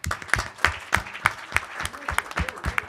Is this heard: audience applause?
yes